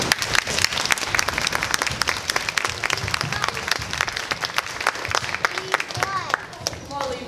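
A theater audience at a school stage production claps steadily throughout, a busy wash of many hands, while voices and shouts from the stage cut in over it toward the end.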